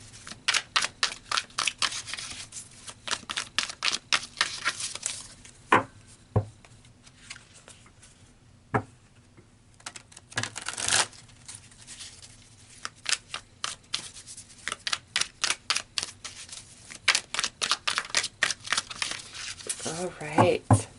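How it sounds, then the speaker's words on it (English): Oracle cards being shuffled and pulled from the deck: close, papery riffles and flicks come in quick bursts across the whole stretch, with a few sharper slaps and short pauses between runs. "So let's pull some more cards here"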